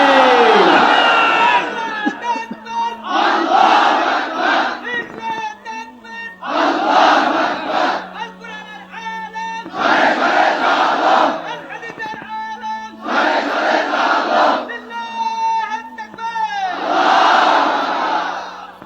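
A large crowd at a political rally roars the takbir chant in repeated loud bursts, about five or six rounds separated by short pauses, with a leading voice calling between them.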